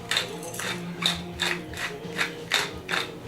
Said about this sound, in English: Thick or coarse grind on the pepper.